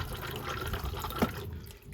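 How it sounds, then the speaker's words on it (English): Campervan toilet flush: a steady close rush of running water with a brief gurgling pulse partway through, then easing off, with no speech. "press this flush button."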